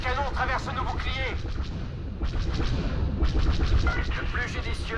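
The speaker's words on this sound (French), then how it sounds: "Ces canons traversent nos boucliers!" Heavy cannon blasts from starships in a Star Wars Battlefront II space battle, loud repeated booming bursts over continuous combat noise, with French voice lines heard over the barrage.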